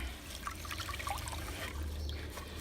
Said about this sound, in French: Avec une éponge, taloche éponge, on la rince, on met dans l'eau